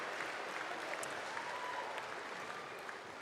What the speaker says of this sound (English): everybody give Sky a massive applause